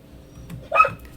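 Inside a small cabin, a dog gives a single short bark to be let in, somewhat distant and faint against a quiet room.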